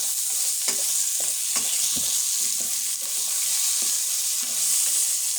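Pointed gourd fries with spices in a pan on lowered heat, a loud continuous sizzle broken by regular scraping stirs of a spatula, with no talking.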